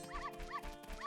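Blue Dog, a racing dog in the Majora's Mask video game, gives repeated short yips and barks in a steady rhythm of about three bursts, close and fairly loud, with game music underneath.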